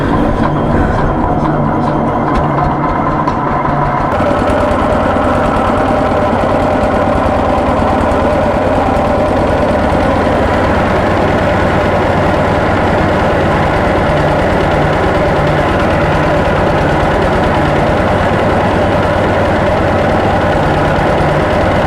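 A 5–7 kVA generator engine running near 900 RPM drones loudly and continuously, with a steady low mechanical hum and rattle and no pauses throughout.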